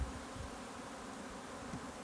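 Honey bees from a package installed three days earlier hum softly at an opened hive during inspection, a faint continuous low buzz with a few slightly louder swells, no talking.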